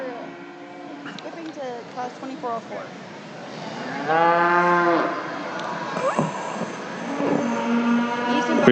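Heifers moo repeatedly in a junior breeding cattle show arena at the Nebraska State Fair, with long, loud calls rising over an announcer speaking on the public address and steady crowd noise.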